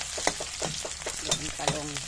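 Chopped onion going into a hot pan of frying eggplant, crackling and sizzling in short bursts with a few stirring scrapes.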